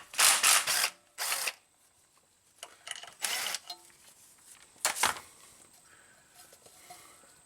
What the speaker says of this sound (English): Next thing I want to do is remove the torque converter bolts before we get too far.